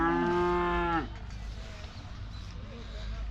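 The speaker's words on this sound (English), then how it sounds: "The cows are getting judged." Cattle being judged in the commercial cattle classes at a Scottish agricultural show, the Kirriemuir Show: one loud, close moo opens and then breaks off, leaving crowd murmur and distant show ambience.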